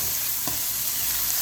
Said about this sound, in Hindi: अब जो ऑयल था वो इसके अंदर शामिल करूँगी। अच्छे तरीके से मैं इसको गोल्डन ब्राउन करूँगी प्याज़ों को।